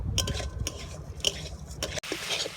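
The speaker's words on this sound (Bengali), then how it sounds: "সব কিছু ভালো করে মিশিয়ে নেওয়া হবে" Sugar stirred in a pot over a medium flame while making palm pitha, with a spoon repeatedly scraping and clinking against the metal in close, busy strokes.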